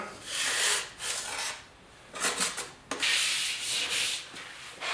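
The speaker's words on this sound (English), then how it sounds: "Alright, everything's all dried up. Time to sand it." Sandpaper rasps across a dried drywall patch in repeated strokes, with short pauses between bursts of scratchy rubbing, close and fairly loud.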